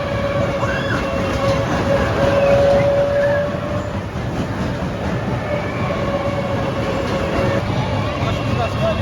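The Berserker ride train at an amusement park rumbles steadily along its track with a dense mechanical roar and faint clatter, broad and fairly loud throughout, with a faint voice beneath.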